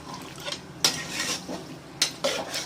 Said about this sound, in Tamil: இந்த கறியோடு நல்லா சேர்ந்து வர்ற மாதிரி நல்லா அப்படி கிண்டி விட்டுக்கிறணும்